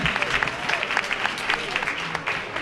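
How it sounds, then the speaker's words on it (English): An audience at a Black History Month celebration held by the Independent Club of Colonia claps for a young speaker. The round of applause is moderate and slightly distant, with individual claps audible in a dense, uneven patter. "Let's give another round of applause for Miss Madison"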